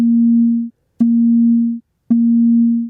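Three steady electronic pitch-pattern tones in a music ear-training video game, each a plain held beep with short gaps between, loud and clear.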